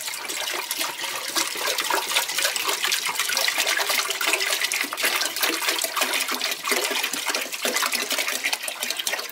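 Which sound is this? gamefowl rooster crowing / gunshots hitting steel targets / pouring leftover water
pouring leftover water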